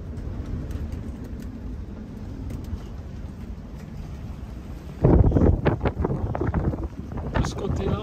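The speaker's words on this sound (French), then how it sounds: "De ce côté-là, on est un peu moins dans les rafales que nos voisins" Strong wind gusts buffet the microphone at a Greek seaside, a steady roar that surges sharply louder midway, with voices talking underneath.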